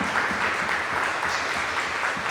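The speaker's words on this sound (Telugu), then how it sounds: "ఇప్పటి వరకు మనల్ని నడిపించిన గొప్ప దాన్ని గట్టిగా ఒకసారి చప్పట్లు కొడదామా?" A congregation applauds together at a church retreat, a dense, even wash of many hands clapping at once, sustained and fairly loud throughout.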